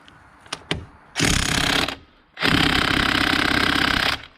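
An impact wrench tries to break loose a stuck bolt. A couple of short clicks come first, then two loud, close bursts of rapid hammering, one about a second long and one about two seconds long.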